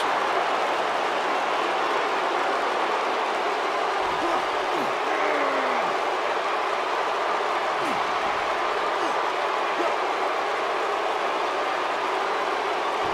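An arena crowd in a wrestling video game, Philadelphia setting, roars in a constant loud wash of cheering and noise throughout, with a commentator's voice faintly underneath.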